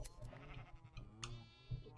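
Sheep in Minecraft bleat several times in quick succession, game-style bleats stacked over a steady low background with a few sharp clicks, close and clear, no voices.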